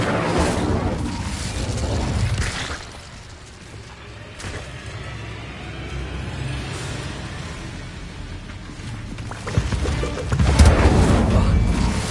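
Incendio fire spell being cast in Hogwarts Legacy, heard as roaring, crackling blasts and booming bursts that swell loud at the start and again near the end, with rumbling effects in between.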